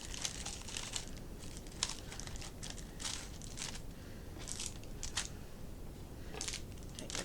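Wrapped candy pieces being handled, a quiet steady run of crinkly wrapper rustles with soft bursts of crackle spaced through the whole stretch.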